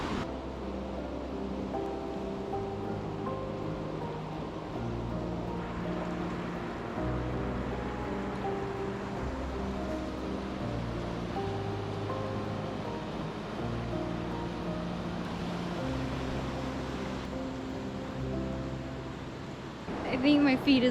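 Steady broadband rush of river water flowing near a hot spring in Idaho, continuous and fairly close, with low rumbling underneath and no pauses.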